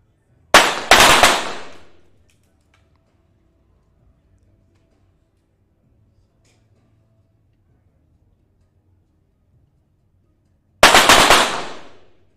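Two loud, sharp pistol shots at a 25m para shooting competition, a mixed 25m pistol SH1 World Cup event, each ringing out with a decaying tail, the first near the start and the second after roughly ten seconds of near silence.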